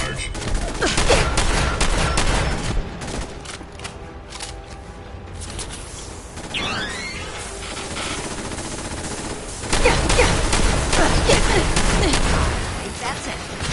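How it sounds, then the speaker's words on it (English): Automated turret weapons from Fallout 4 firing dense, continuous bursts of loud, close gunfire, broken by brief lulls and a synthetic voice. "Non-combatants are advised to stand clear of weapons discharge."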